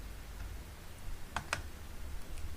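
Two quick, light mouse clicks on the Generate key of an online government procurement bid form, close and crisp over a quiet room hum.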